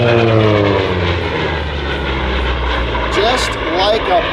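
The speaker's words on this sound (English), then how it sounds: "Here's another great pass by our Sea Fury." A Hawker Sea Fury piston-propeller fighter makes a pass at a London airshow, its steady loud engine drone filling the whole stretch with a droning hum and a slight pitch shift as it goes by.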